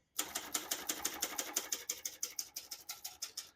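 Rapid, steady clacking of keys on a 2004 Olympia Traveller C portable manual typewriter, each strike crisp and close, continuing in an even rhythm for several seconds with no voices.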